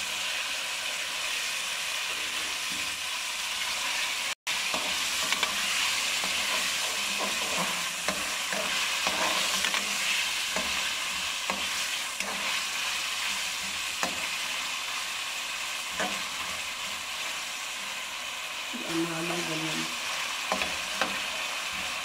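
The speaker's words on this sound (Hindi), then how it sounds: "थोड़ा सा गोल्डन हो रहा है चिकन भी। अब इसमें मैं आलू डालूँगी।" Chicken and potatoes fry in a pan and are stirred for noodles, giving a loud, steady sizzle with scraping stir strokes and one brief dropout.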